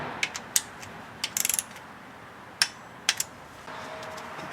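A wrench tightens the M10 cylinder head bolts of a 2000 Chrysler 300M to 40 foot-pounds: close, sharp ratchet clicks come in short bursts, including one rapid run of several clicks, with pauses between and a faint hum underneath.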